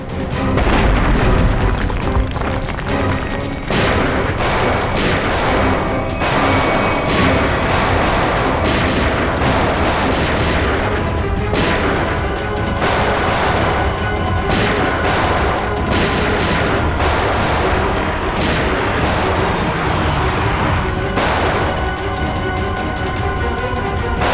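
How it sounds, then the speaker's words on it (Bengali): Bomb blasts boom one after another in a dense, continuous barrage of loud explosions and crackling bursts, sustained without a break. "ব্লাস্ট আরম্ভ হয়ে গেছে"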